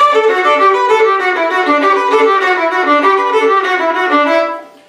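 A bowed fiddle plays Fisher's Hornpipe with saw-stroke bowing, a steady run of short, even rasping strokes, bright and close, ending with the note fading out.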